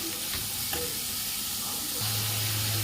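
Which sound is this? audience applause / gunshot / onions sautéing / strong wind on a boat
onions sautéing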